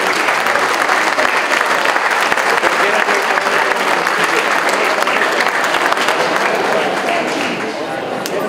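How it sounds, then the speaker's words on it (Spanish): A crowd at a formal university event applauds, loud, dense and continuous clapping that holds steady for several seconds and eases slightly at the end. "Un fuerte aplauso al doctor en ciencias Luis Alejandro Aguilera Galaviz."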